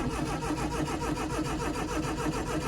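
A classic car engine cranking as it tries to start with the choke out, the starter churning in a fast, loud, continuous rhythm without catching.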